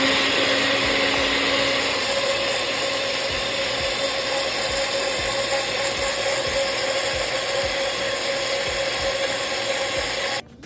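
A blender runs steadily at high speed, emulsifying habanero salsa as oil is drizzled in, a loud continuous whirring roar with rhythmic mechanical rattling that cuts off abruptly at the end.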